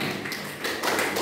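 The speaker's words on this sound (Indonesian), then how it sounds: "Oke, beri tepuk tangan." Students in an accounting classroom give a short round of applause, quick hand claps and taps bunched together at moderate volume for just over a second.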